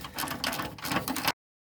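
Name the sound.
removing the front bolts of a transfer case skid plate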